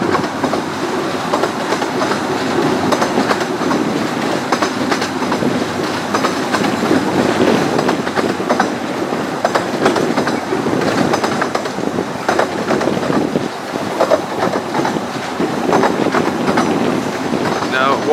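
A train rumbles steadily along the track, a continuous loud roar of wheels on rails with faint clattering throughout, no voices.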